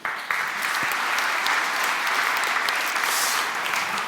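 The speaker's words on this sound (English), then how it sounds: "Round of applause for him." Steady, full audience applause at a live chess challenge event, dense clapping sustained evenly from start to finish with no talk over it.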